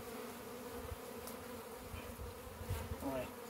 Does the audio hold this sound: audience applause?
no